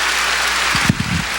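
A church congregation applauds during a 1991 Christmas worship sermon, a dense, steady wash of clapping filling the room, with a few low murmuring voices breaking through near the end.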